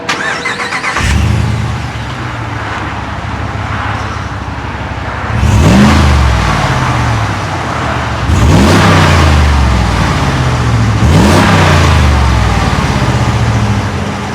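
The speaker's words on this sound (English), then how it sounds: "this is just a very powerful engine that gets you up and down the road, and sounds very good" A 2022 Jeep Wagoneer Series III engine starts loudly and then revs hard three times, each surge rising and falling before settling back to a rumbling idle.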